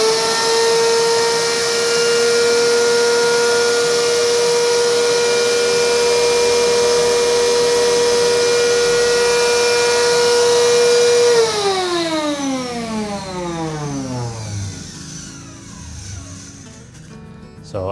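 Vacuum motor on a DIY silkscreen exposure box runs loud and steady with a strong tonal whine, then spins down in pitch as it shuts off, leaving a fading rush of air.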